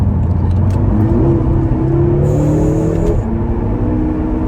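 A BMW F13 M6 with twin turbos accelerates hard in gear with its wheels spinning, the engine note climbing loud and close, then dropping briefly at a gear change before rising again; no talk.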